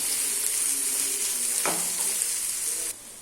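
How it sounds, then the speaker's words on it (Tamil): Onion masala with chili powder, turmeric, garam masala and salt sizzles steadily in a pan while being stirred, with a brief scrape partway through before the sound cuts off. "இப்போ இது எல்லாத்தையும் வதக்கி விட்டுறலாம்."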